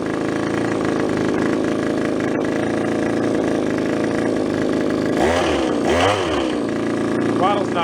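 A small engine on a garage-sale find runs at a steady, close, rattling idle, then is gently revved in two brief throttle blips near the end. A voice is heard over it.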